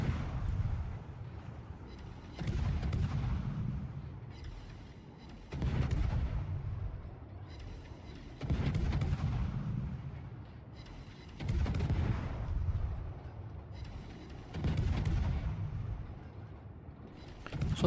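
Heavy naval guns from a warship battle game boom in repeated salvos about every three seconds, each a loud low blast with a rumbling tail, while a ship keeps firing steadily on an enemy vessel.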